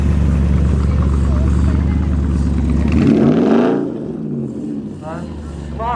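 A Marcos classic car rolls in at a classic car show at Ragley Hall, its steady engine rumble close and loud before easing off as it passes, with people talking in the background.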